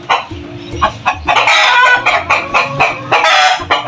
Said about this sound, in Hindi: क्योंकि बहुत ही ज्यादा जो है मुर्गे वो शोर मचा रहे हैं।